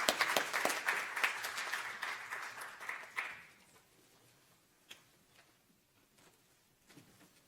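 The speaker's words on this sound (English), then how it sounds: "One last round of applause for all of our middle school and high school gold STEAM award winners." Lively applause from a school board meeting audience for middle and high school gold STEAM award winners, bright clapping that fades after about three seconds into near quiet with a few scattered claps.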